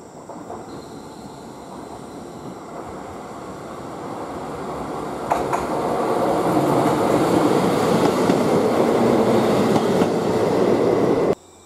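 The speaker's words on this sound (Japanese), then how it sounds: "現在撮影しています列車は、こちらはこの後乗ります特急北斗です。" A Hokuto limited express train rolls past near Shin-Hakodate-Hokuto Station, its steady rumble of wheels and rail noise building louder as it approaches, with a brief clank midway and an abrupt cutoff at the end.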